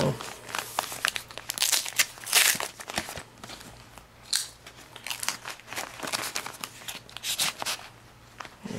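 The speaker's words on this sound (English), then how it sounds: "Got another crappy package to open." A package is torn open and unwrapped close up, with irregular bursts of crinkling and crackling plastic and paper, some sharp tearing, and faint voices in the background.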